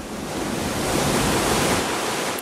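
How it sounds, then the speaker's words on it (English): Ocean surf rolls in at a dark black rock beach on Maui, a loud continuous wash of breaking water that swells and holds steady, with some wind noise and no voices. "Ocean Wave."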